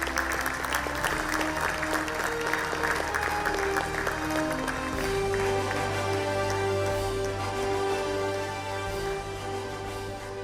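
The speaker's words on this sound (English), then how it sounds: "Please give them a round of applause, please" Sustained audience applause fills a manufacturing excellence award ceremony for work condition and safety, a dense, steady wash of many hands clapping, with background music tones running underneath throughout.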